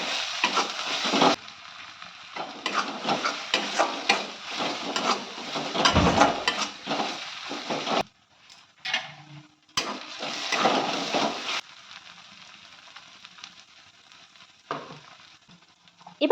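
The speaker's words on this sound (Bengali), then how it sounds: "এখন দিয়ে দিচ্ছি আদা বাটা।" Ginger paste and spices fry for chana masala in bursts of close sizzling and stirring that stop abruptly, leaving brief quiet gaps between spells of frying.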